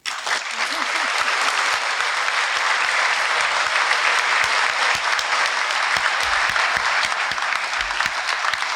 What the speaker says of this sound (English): let's have another round of applause for this class.